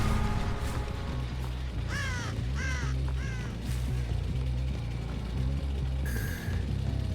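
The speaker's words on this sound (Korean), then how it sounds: "까마귀." Crows caw several times in Dead by Daylight, harsh calls rising over a low droning game ambience, with a brighter tone briefly sounding near the end.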